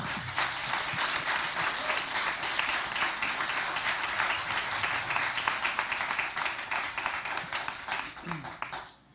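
Sustained audience applause for young spelling bee contestants at a national championship, dense and even clapping from a large crowd that carries for several seconds before tapering off.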